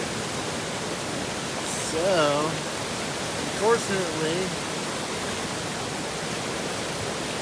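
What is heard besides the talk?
rushing creek swollen by rain in wilderness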